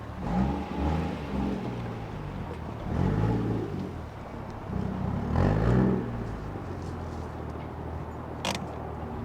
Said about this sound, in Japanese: みんな大好きマフラーサウンドいきますか